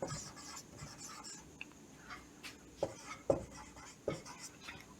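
Chalk or pen writing on a board during a Class 10 physics lesson on electric potential, heard as a few soft scratchy strokes and taps spaced across the moment, fairly quiet against a low room background.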